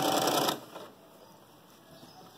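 Sewing machine running a short backstitch on fabric for a protective mask holder, a brief loud burst of rapid stitching in the first half second, then quiet room hum.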